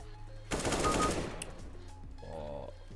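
Rapid automatic gunfire in Counter-Strike: Global Offensive, a loud close burst of shots lasting about a second, followed by quieter game sounds and a distant tone.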